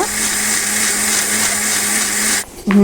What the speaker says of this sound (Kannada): ಇದನ್ನು ನಾವು ಎಲ್ಲವನ್ನು ಹಾಕಿ ಚೆನ್ನಾಗಿ ಪೀಸುವ ಮಿಕ್ಸಿಯಲ್ಲಿ ಹಾಕಿ